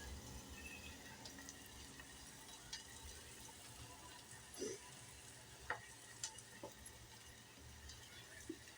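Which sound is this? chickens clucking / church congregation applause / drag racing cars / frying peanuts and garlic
frying peanuts and garlic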